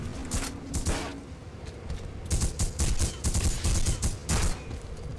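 Sustained automatic gunfire from The Punisher video game, heavy overlapping volleys with short gaps, loud and close, rattling on through the whole stretch without speech.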